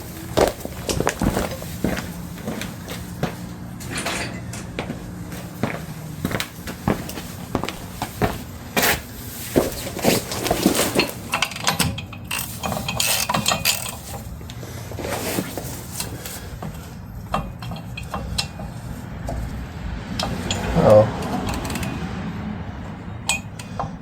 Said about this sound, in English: for this I'm going to grab the ratchet again that I put away.